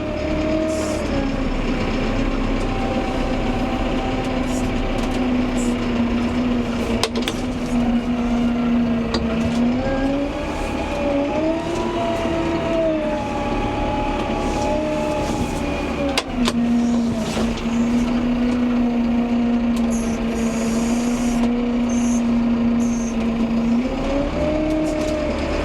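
Massey Ferguson 5M.125 tractor in two-wheel drive with a front bucket working a muck heap, steady diesel drone that rises and falls in pitch as it pushes and lifts, close and continuous.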